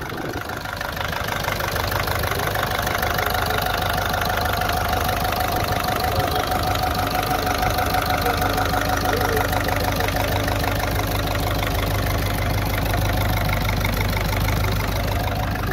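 A Ford engine idles steadily in a garage, a loud, constant rumble with a faint knocking texture that stays close and never pauses.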